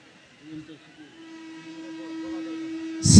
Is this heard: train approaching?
yes